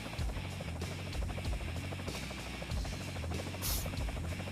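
A video-game helicopter in a competitive strategy match gives a steady, dense rotor buzz and hum throughout, loud and continuous, with no talk over it.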